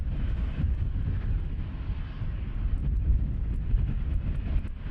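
A departing airplane roars at Amsterdam Schiphol airport, a broad low rumble that stays steady and moderately loud, heard at a distance with no talk.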